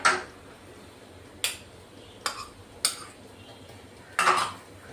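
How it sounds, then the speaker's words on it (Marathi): Grated beetroot, carrot and crushed peas being mixed in a bowl, with a few sharp clinks and scrapes of a spoon against the dish, spaced irregularly, fairly close. "आपण मिक्स करून घेतोय आता"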